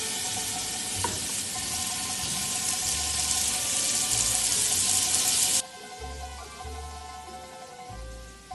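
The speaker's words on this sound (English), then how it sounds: "we're gonna sweat our onions right in the bacon fat" Onions sweating in bacon fat for bucatini amatriciana, a dense crackling sizzle close by that drops suddenly to a softer hiss partway through, with low scraping sounds beneath.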